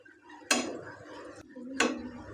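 A spoon scrapes and clinks twice against a cooking pan while chicken mince with chilli powder and masala is stirred; two sharp metallic strokes with soft scraping between them.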